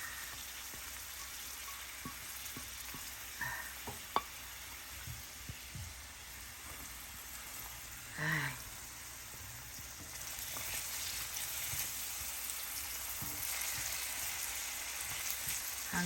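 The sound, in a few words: onion and garlic sautéing in hot oil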